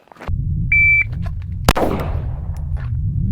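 A single sharp pistol shot from a Springfield Hellcat handgun rings out on a shooting range just after a short electronic timer beep, with a ringing decay and steady background noise.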